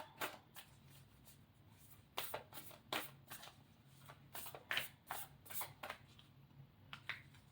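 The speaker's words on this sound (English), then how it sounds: "trying not to shuffle a lot, guys" Quick bursts of oracle cards being shuffled, crisp riffling flurries repeating in irregular clusters, close and fairly quiet with no talking.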